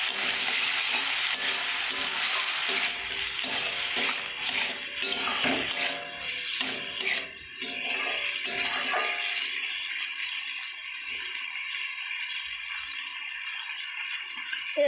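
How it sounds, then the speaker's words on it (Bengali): Bete greens fry in a pan under a loud, steady sizzle, broken by repeated clanks and scrapes of stirring for about nine seconds before the hiss settles and fades to a quieter simmer. "ভালো করে আমি নেড়ে চেড়ে নেব এইভাবে"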